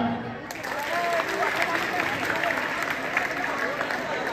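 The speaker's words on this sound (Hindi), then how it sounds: "एक बार तालियां" A crowd of students applauding a class 6 pupil at a school Republic Day celebration, sustained dense clapping with voices in the mix, moderately loud.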